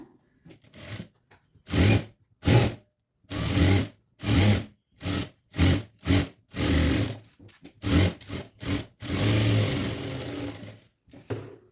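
A sewing machine stitches the neck of a kurti reinforced with canvas, running in short and longer bursts separated by brief stops. The whirring is close and clear, with no talk over it.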